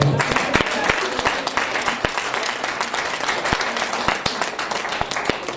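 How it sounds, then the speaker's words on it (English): Church congregation applauding during a sermon: a continuous, moderately loud patter of many hands clapping with sharp individual claps standing out, some voices mixed in. "Somebody give the Lord a round of applause."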